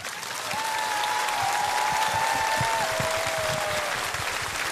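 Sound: audience applause at a concert

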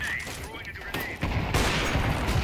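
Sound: gunfire in a video game

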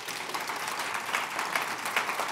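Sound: applause for the panelists

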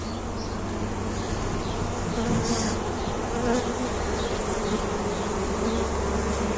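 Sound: swarm of light-coloured honeybees buzzing at apiary

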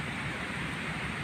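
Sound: heavy rain pouring down

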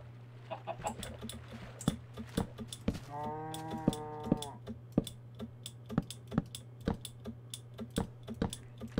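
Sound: cow mooing in Minecraft video game

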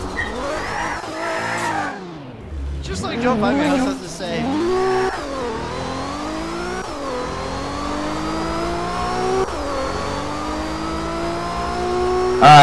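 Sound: car drifting with tire squeal, video game

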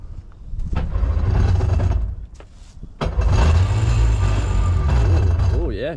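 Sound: Bombardier Challenger jet boat engine cranking and starting

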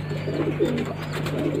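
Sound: pigeons cooing

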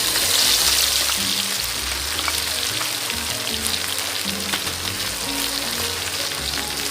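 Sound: garlic frying in hot oil

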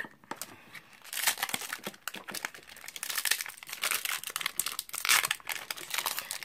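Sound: opening a Magic: The Gathering Eldritch Moon booster pack wrapper

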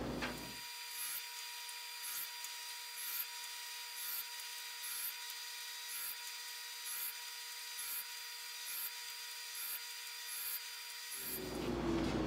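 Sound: table saw cutting dadoes in wood pieces

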